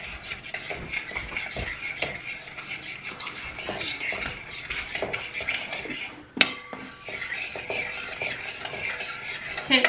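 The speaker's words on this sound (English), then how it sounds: "now stir that all up" A spoon stirs a mixture with yellow mustard in a bowl, a continuous scraping and rubbing against the bowl with small clinks, close and steady, with one sharper knock partway through and no talking.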